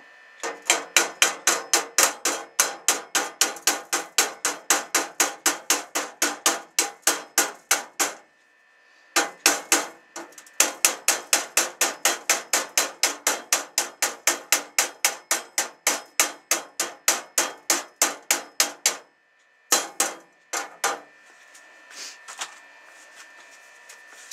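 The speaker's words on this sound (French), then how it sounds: "Le marteau pour enlever la laitière, pour piquer la laitière." A hammer chips slag off a fresh weld on a homemade steel fabrication table, rapid sharp metallic taps in long even bursts with two short pauses, close and clear.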